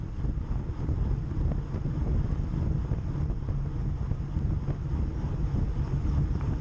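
A lorry passes road cyclists on a Cheshire road, heard as a steady low rumble with broadband wind roar over the microphone, fairly constant throughout, with no voices.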